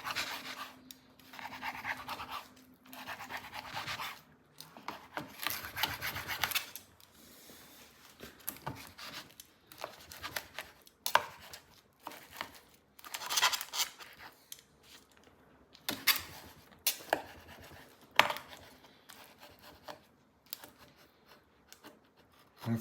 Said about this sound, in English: chop it up lengthwise